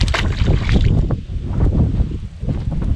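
Strong wind buffets a fishing boat out on a Mississippi bayou estuary, a loud, gusty low roar of rushing air pressing against the microphone throughout, with no speech.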